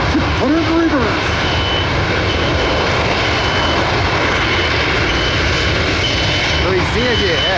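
A C-17 transport aircraft on the ground at an airshow roars loudly and steadily with engine noise, while a faint rising-falling warning tone sounds briefly near the start and again near the end.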